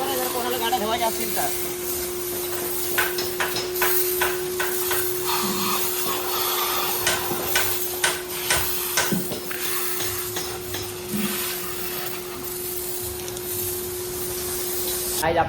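Steady hiss of a pressurized water spray washing a car, with a constant high whine, interrupted by splashing bursts and brief voices nearby.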